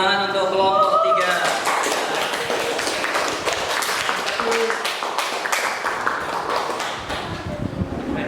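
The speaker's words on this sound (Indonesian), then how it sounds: "tepuk tangan untuk kelompok 3" Classroom of students clapping for a student group, a lively patter of many hands close by, with children's voices and chatter mixed under the applause.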